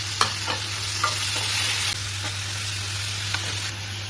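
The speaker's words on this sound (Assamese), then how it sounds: "লং আৰু ইলাচি দিছোঁ আৰু কাজু কেইটামান ভাজি দিছোঁ" Bay leaf, cloves, cardamom and cashews frying in a pan, a steady loud sizzle with a few soft stirring clinks and scrapes, a low hum beneath.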